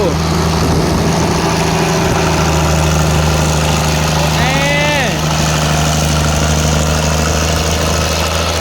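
An old car engine rumbles loudly and close at idle, rising briefly in a rev midway, with a voice heard faintly over it.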